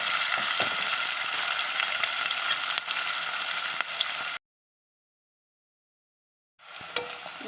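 Onions sizzle and fry in a pan for egg curry, a steady hiss with occasional stirring clicks, cut by about two seconds of complete silence before the frying resumes.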